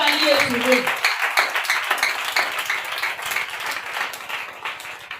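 A church congregation claps and acclaims Jesus Christ, rapid rhythmic clapping running steadily throughout with voices mixed in.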